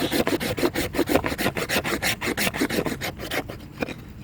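Repeated rasping strokes of a blade scraping shavings off a resinous fatwood pine stump, steady close rhythmic scrapes for about three seconds, then trailing off.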